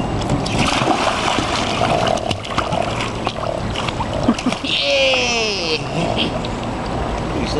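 A Boston Terrier dropped into water makes a splash, then keeps paddling while people talk and cheer close by.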